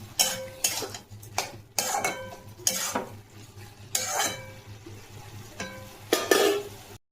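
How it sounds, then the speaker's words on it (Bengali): Leafy greens frying in a pan with salt and sugar: repeated scraping strokes of a metal utensil against the pan, clattering in uneven bursts over a low, steady sizzle. "নুন আর মিষ্টি দিয়ে ভাজবো"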